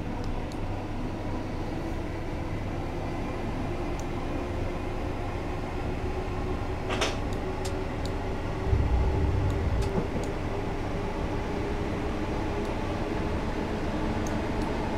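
A Class 456 electric multiple unit running between London Bridge and Victoria in Train Simulator 2019: a steady, continuous rumble of the running train with a low hum, and brief faint clicks and a short low thud midway.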